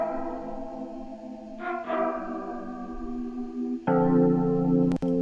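Electric keyboard chords run through a phaser, distortion and doubler, sustained and shimmering with a swirling chorus-like tone, a brief break near two seconds and a fuller, louder chord entering near four seconds.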